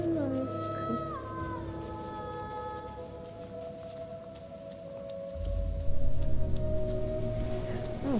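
A dog howling in a video game, with long, sustained, wavering tonal cries that rise and fall over a low background hum and grow heavier near the end.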